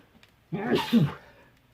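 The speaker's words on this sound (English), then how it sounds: "I had to sneeze there." A single sneeze, close and fairly loud, with a sharp intake and burst, and quiet before and after.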